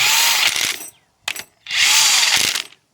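Power tool, likely an impact driver or drill, cinching down the bolts on a Toyota 8-inch differential during a locker install: two loud bursts of close whirring with a short blip between them.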